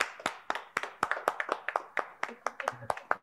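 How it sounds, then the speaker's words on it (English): Audience at a cash prize draw claps in a loose, uneven rhythm, a couple of dozen distinct close hand claps spaced across a few seconds, with a brief voice near the end. "a round of applause for him."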